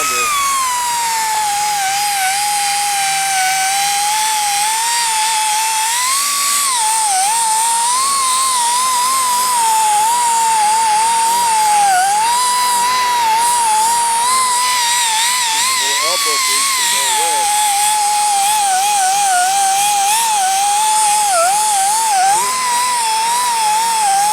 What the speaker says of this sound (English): Take these grind marks out with this sander.